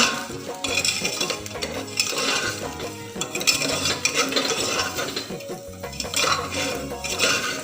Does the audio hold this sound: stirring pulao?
yes